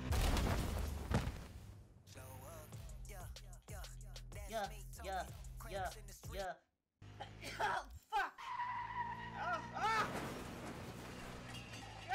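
Car in the Cyberpunk 2077 video game driving hard and skidding, with tyre squeals and engine noise, broken by a brief silent gap, while someone speaks excitedly over the action and game effects.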